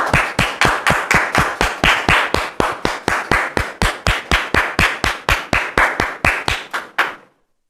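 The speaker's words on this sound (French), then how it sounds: "Est-ce qu'on peut les recevoir sous vos applaudissements," An audience claps to welcome guests, a rhythmic run of steady claps roughly every quarter second, loud and close, lasting about seven seconds before stopping abruptly.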